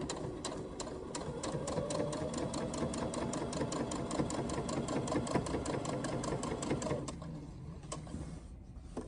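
A home sewing machine runs steadily while top stitching a fabric napkin at a slightly longer stitch length, a close, continuous rapid mechanical chatter for about seven seconds before it slows and stops.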